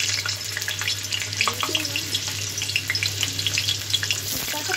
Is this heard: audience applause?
no